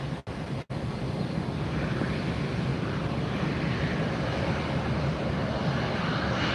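An American Airlines jet departs Fort Lauderdale airport, its engines giving a loud, steady roar that fills the whole stretch after a brief dropout at the start, with wind noise and no voices.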